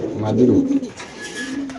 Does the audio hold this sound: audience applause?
no